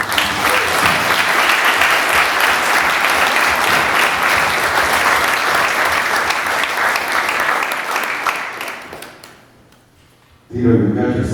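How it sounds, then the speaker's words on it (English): A seminar audience breaks into long, loud applause honoring a fighter's father. The applause holds steady for about eight seconds, fades to near silence, then a voice comes in close at the end. "So please round of applause for Luke."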